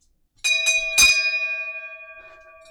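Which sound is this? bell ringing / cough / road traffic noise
bell ringing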